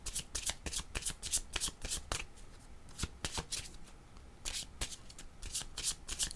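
Tarot cards being shuffled by hand, with repeated crisp riffling bursts in quick rhythmic groups and brief pauses between them, close and clear with no talk.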